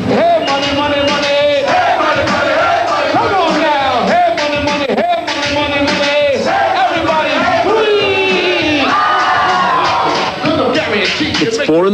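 A dense crowd shouts, whoops and cheers at 4 a.m. in a 1984 street scene, with a continuous loud roar of many overlapping voices and rising yells that swell throughout.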